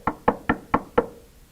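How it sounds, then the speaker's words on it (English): Five evenly spaced wooden knocks on a door, crisp and close, each with a short ringing decay, in a puppet-show setting. "He came, and he knocked on a door."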